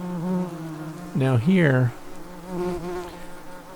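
Yellow jacket wasps buzz over a large removed nest, a busy continuous drone heard close up, while someone talks briefly over it.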